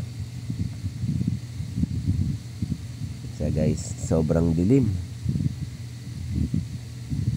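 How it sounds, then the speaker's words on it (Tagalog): Strong wind roars steadily while travelling by sea, with a storm reportedly on the way. The gusty rumble stays constant throughout, and someone talks over it in the middle. "Kasi nga malakas ang hangin yan"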